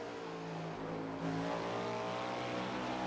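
A Cadillac GTP prototype race car in iRacing at Monza drones at steady high revs with a dense, layered engine note that swells slightly louder partway through, no talk over it.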